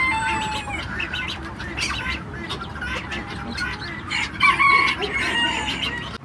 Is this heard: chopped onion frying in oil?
no